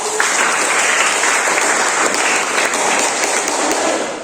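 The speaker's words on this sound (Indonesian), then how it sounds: "Ya, tepuk tangan" Dense, sustained hand clapping from an audience at a university student performance session in Ambon, loud and steady throughout and easing slightly at the end.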